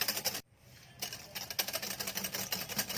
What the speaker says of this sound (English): Add the remaining of caster sugar and keep whisking it.